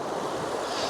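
Waves washing steadily near a boathouse in the rain, a continuous broadband rush with no distinct breaks, fairly loud and close, with no voices over it.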